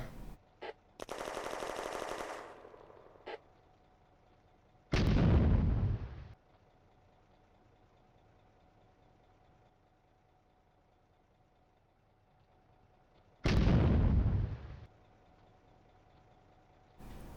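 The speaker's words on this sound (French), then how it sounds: "Allez, les mortiers, j'ai besoin de vous, j'ai besoin de vous. Tirez-moi ces obus là." Mortar shells in the war game Firefight: a rapid burst of loud firing, then two separate heavy booming explosions several seconds apart, each with a short rumbling tail, over a quiet background.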